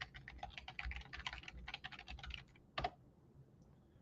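Rapid run of computer keyboard keystrokes as a website address is typed, a dense flurry of close clicks for about two and a half seconds, then a single firmer key press like Enter, and quiet after.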